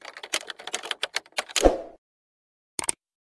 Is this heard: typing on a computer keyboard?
yes